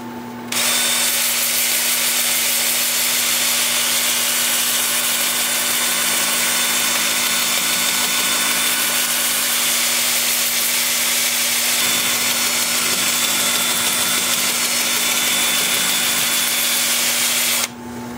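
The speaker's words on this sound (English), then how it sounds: "The lathe is going to be spinning forward at 350" Wood lathe turning a cow-face bowl at about 350 rpm while a 2-inch sanding disc works the surface, a steady loud whirring hum with a constant tone that runs unbroken from start to finish, with no talk.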